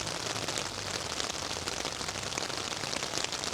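Steady heavy rain drums on a tarp, a dense continuous patter with scattered louder drops, no voices.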